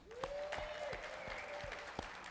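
An audience at the Reclaiming Liberty Summit in Orlando applauds steadily for the whole stretch, with a few sharper claps and a thin whistle rising through the noise.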